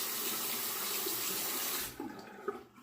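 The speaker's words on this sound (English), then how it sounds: "I can rinse the razor now and put it down." Tap water runs steadily over an aluminum razor being rinsed at a bathroom sink, then stops abruptly, leaving a few faint drips and clinks.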